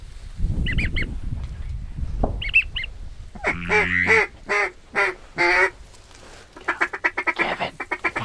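Ducks and geese call during a duck hunt, honking and quacking in several clustered bursts, some close and loud, with rustling and movement noise between calls.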